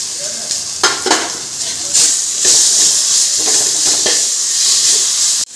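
Ginger-garlic paste fries in a pan for vegetable biryani, a loud, continuous sizzle with steamy hiss and occasional stirring scrapes, cutting off abruptly at the end.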